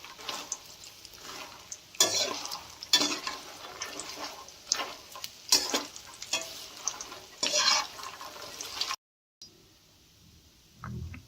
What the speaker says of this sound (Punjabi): ਹੁਣ ਫੁੱਲ ਮਖਾਣੇ ਨੂੰ ਫਰਾਈ ਕਰ ਲੈਣਾ ਵਾ